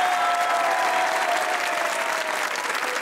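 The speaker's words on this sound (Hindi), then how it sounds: "अगर आप लोग भी दूसरों को खुश देखना चाहते हैं तो तालियां बजाइए" Studio audience applauding steadily on a comedy talk show, dense continuous clapping from a crowd that holds at a fairly even level for about three seconds.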